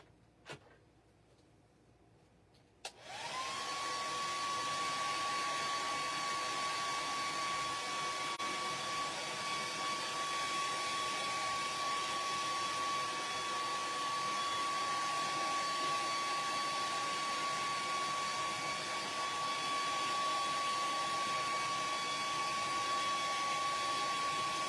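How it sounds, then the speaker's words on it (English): A blow dryer is used to heat a chalk transfer on craft books. After a brief quiet start it switches on and runs in a loud, steady whir with a constant whine that lasts to the end, with no talking. "Kind of have to hit at them,"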